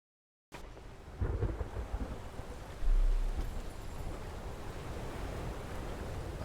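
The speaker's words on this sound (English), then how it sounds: "Thunder." Thunder rolls over the sea in the Fishing: North Atlantic video game. A deep rumbling swell builds after a brief silence and keeps booming beneath steady wind-and-rain noise, loud and sustained with no voices.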